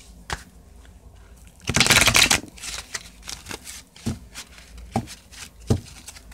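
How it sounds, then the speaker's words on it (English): A deck of cards being shuffled: a burst of riffling in the middle, surrounded by scattered taps and snaps of cards being handled, close and quiet. "let me shuffle the deck real quick"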